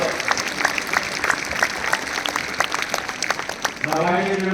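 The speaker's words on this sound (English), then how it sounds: "let's give a big round of applause for all the children" Applause for children after a school Mother's Day celebration performance, a crowd clapping in a continuous crackling wash, with a voice starting to speak over it at the end.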